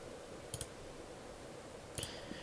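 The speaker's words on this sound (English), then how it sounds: "Shift right click again and do another nearest." A computer mouse clicks in two quick pairs during a shift right-click while grading to a slope constraint in Civil 3D CAD software, close and crisp over a steady low hum, with a fainter click near the end.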